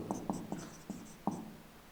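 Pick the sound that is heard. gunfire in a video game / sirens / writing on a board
writing on a board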